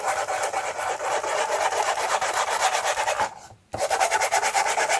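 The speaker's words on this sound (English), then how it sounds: "So I have this little sanding disc" A small Tim Holtz sanding disc rasps back and forth over a mixed-media journal cover in quick, steady strokes, close and scratchy, with one brief pause near the end.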